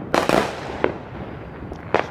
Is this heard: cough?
no